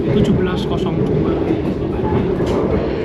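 Inside a running Argo Merbabu executive-class passenger train carriage: a steady low rumble and hum of the moving train fills the cabin continuously, with faint rhythmic clatter over the rails.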